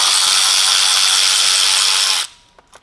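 A power tool loudly spins out a bolt from the thermostat housing on a Hyundai Getz engine, a continuous high buzzing whir for about two seconds that cuts off abruptly, followed by a couple of small clinks.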